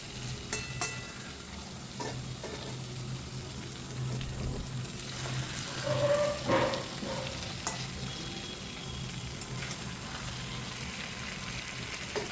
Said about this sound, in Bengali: আলুগুলো দিয়েও ভালো করে কষিয়ে নিচ্ছিলাম